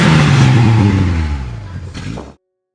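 Engine revving sound effect in a children's story, a loud throaty roar with rising pitch that holds steady, then fades and cuts off abruptly near the end.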